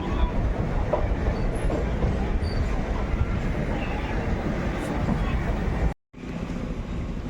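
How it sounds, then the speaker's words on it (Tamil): A train rolls steadily along the rails past Tirunelveli Junction, India, with a continuous low rumble and rattle, close and loud, with a brief dropout near the end. "ட்ரெயின் மூவ் ஆகுது"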